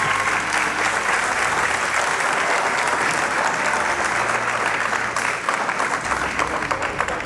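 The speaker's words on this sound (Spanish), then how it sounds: "Un fuerte aplauso, fuerte aplauso." Sustained applause from an audience at a Panamanian education award ceremony attended by the education minister and the president, a steady dense wash of clapping that holds loud and even throughout.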